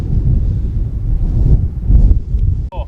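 Gusty wind rumbles and buffets the microphone on a golf course in gale-force conditions, with low, uneven surges and a brief dropout near the end.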